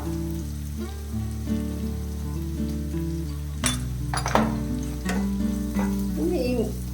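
A teaspoon of ginger-garlic paste fries in hot oil for chicken kondattam, giving a steady sizzle with a few sharp spatters and stirring scrapes, all under loud, sustained tonal music.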